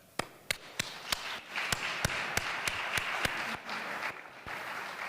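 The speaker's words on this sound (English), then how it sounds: "join me in a round of applause for them" Scattered, sparse claps from a small audience at a healthcare awards celebration, distinct individual hand claps spaced out over a soft background murmur, fairly quiet.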